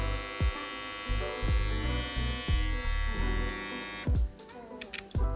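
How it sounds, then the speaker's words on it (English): A Gamma Cyborg electric hair clipper runs close by with a loud, steady, high-pitched buzzing whine. Several clicks or handling thumps break through, and the motor tone shifts near the end. "Yeah, you can listen to the clipper."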